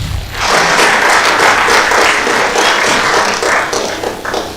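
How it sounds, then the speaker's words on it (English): Loud, close applause at a book launch as an audience recognizes a visiting chief justice: a low thump at the start, then a dense, vigorous wall of clapping that holds strong before easing slightly near the end. "Please join me in recognizing the presence of CJ David Maraga in our midst with a round of applause."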